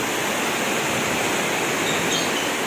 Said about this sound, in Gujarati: કઈ રીતના એની સ્પીડમાં આવે ને વરસાદ ભેગો પવન આવી રહે.